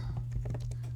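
Quick keystrokes patter on a computer keyboard while entering data into a spreadsheet, a rapid run of light clicks over a steady low electrical hum.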